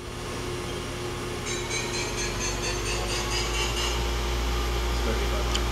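A Mori NLX2500SY CNC lathe runs its main spindle at a constant 1500 RPM, giving a steady mechanical hum with a faint high whine, even and unbroken throughout.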